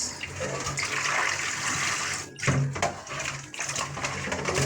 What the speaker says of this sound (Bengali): এই যে মাছটা ধুয়ে নিই, দেখো মাছটা ধুয়ে দিতেছি।